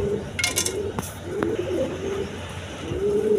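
Pigeons coo in soft, low repeated calls, close by, alongside a few brief chirps and clinks.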